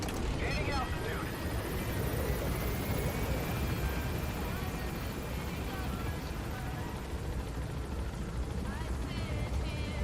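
An aircraft engine drones steadily as it gains altitude in a video game, a loud continuous rotor-like roar filling the scene, with a person talking over it.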